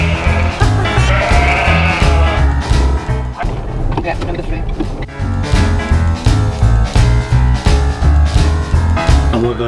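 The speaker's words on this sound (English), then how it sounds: "I've been invited by a farmer, Hayder, to his farm to feed the little lambs" Little lambs bleat repeatedly on a farm in Iceland, loud and close at feeding time, their cries overlapping while people talk nearby.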